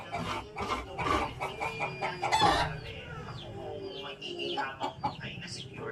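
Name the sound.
chickens clucking and crowing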